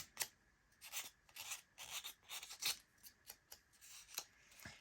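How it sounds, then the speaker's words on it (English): Sandpaper rubs along the edges of a personalized UV resin photo badge in a series of short, scratchy strokes, about a dozen quick rasping passes, close and fairly quiet with no talking. "I like to go through and do my edges with the sandpaper"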